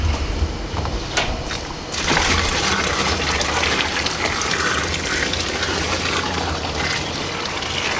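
Water pours and splashes continuously into a container, a loud, steady gushing rush that starts after a brief quieter stretch.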